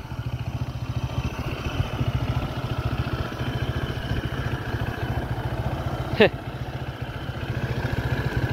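A motorcycle engine hums and putters steadily on a road trip through the Bicol region, with a brief clatter midway and faint talk underneath.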